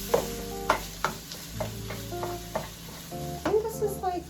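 Raw beef strips sizzling in a pan for a stir fry, with repeated stirring scrapes and clatters every half second or so over a steady close frying hiss.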